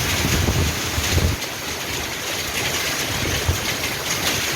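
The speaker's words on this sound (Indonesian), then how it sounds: "Hujan es." Hailstorm with strong wind in Lampung, a dense continuous hiss of falling ice and gusting air with a low rumbling roar, loud and steady throughout.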